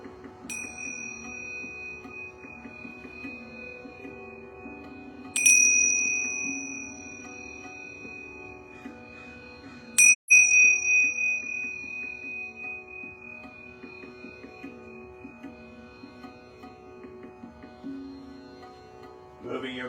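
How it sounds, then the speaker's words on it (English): Yoga bells are struck three times, a few seconds apart, each strike leaving a bright, sustained ring that slowly fades in a quiet room. "I'm going to ring these yoga bells 3 times."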